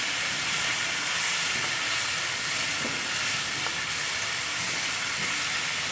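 Masala paste fries in a pan with a steady, dense sizzle and hiss that holds at an even level throughout.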